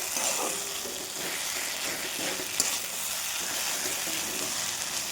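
Washed greens, salted and rubbed to soften their bitterness, fry in a pan with a constant close hiss, light stirring scrapes and a single bright clink midway, with no talking.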